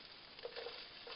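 Chopped sausage frying in a pan, a brief, steady, quiet hiss of sizzling fat heard close up, with no talking.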